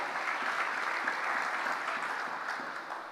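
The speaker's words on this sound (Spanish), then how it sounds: "Dele un fuerte aplauso al Señor." A church congregation applauding during a Spanish-language sermon, a steady, somewhat distant wash of many hands clapping that holds level and eases slightly toward the end.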